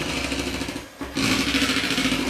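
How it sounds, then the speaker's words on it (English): Egg whites for meringue are whisked with a loud, close, buzzing motorized hum, briefly dipping for a moment before resuming at full level. "Keep whisking."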